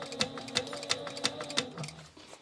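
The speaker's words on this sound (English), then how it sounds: "you do really want to make sure that you're sewing that flap straight" A sewing machine stitches a fabric flap in a rapid, even run of about five mechanical clacks close by, then slows and stops.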